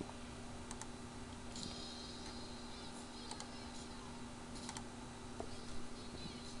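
Computer keyboard typing a short object ID into Inkscape, with light, sparse clicks in a few quick bursts, faint and close against a steady background hum.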